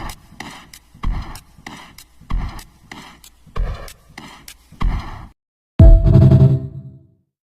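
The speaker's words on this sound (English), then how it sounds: "Final drum kit sounds like this." A drum kit built from sampled sounds, processed with reverb, plays back as a rhythmic pattern of sharp, punchy hits. A pause follows, then one heavy, booming final hit rings out and decays.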